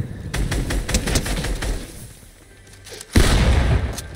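SMG gunfire in Fortnite, a rapid train of sharp shots through the first two seconds, a brief lull, then a loud burst of fire near the end.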